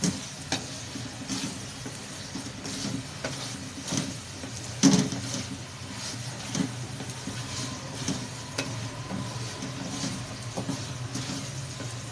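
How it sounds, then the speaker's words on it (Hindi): Chicken is being browned in a pan for a chicken and bottle gourd dish: a continuous low sizzle with occasional clinks and scrapes of stirring, steady and moderately close. "चिकन की अच्छी तरह भुनाई करेंगे।"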